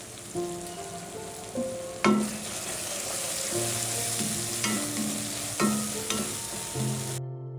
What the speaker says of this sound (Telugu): ఇప్పుడు టమాటాలు ఇప్పుడు కరివేపాకు వేసేస్తాం.